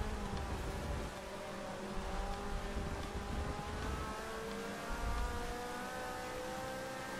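BMW race car in Forza Motorsport 6 at Spa on a wet track, a sustained high engine whine with gear changes and rising pitch as cars run close together, loud and continuous.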